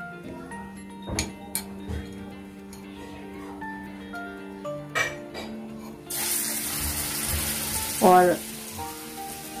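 Batter-coated stuffed kantola (spiny gourd) dropped into hot oil, with a few clinks and taps before a loud, steady bubbling sizzle erupts, close by; a short spoken word appears briefly.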